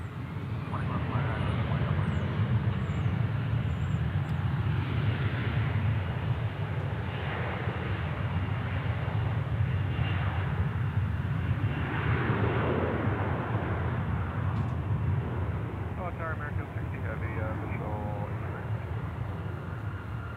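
Jet airliner engine roar at Dallas Fort Worth airport, a steady broad rumble held loud throughout with a constant wide noise bed, heard from a plane-spotting position near the runways.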